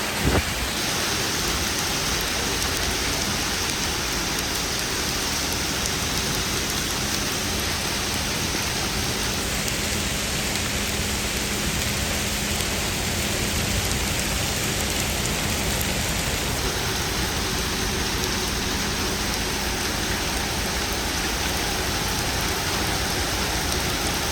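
Big hailstones pound down during a San Antonio hailstorm with strong winds, a dense, loud, continuous roar of impacts that holds steady throughout with no voices.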